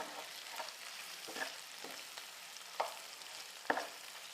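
Chicken dry fry being stirred in a pan, a soft continuous sizzle broken by several scraping stir strokes, quiet and close with no voices.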